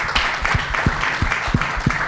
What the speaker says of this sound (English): Please, a round of applause for our panelists here.